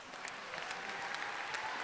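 Steady applause from a concert audience at a final performance of a senior citizens' orchestra university in Katowice. It is a dense, continuous wash of clapping, heard at a moderate distance and quite soft, with no voices over it.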